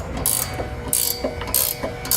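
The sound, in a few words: ratchet socket wrench tightening trailer hitch bolts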